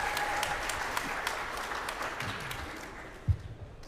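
Steady applause from an audience fills the whole stretch, a dense even patter of many hands clapping at moderate loudness with no voices over it.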